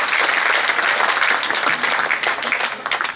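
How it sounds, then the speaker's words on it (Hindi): Steady, dense applause from an audience at a Hindi kavi sammelan poetry gathering in Jaora, filling the space with continuous clapping for a few seconds. "एक बार आप सभी मुझे मन दे दीजिए अपनी तालियों के द्वारा"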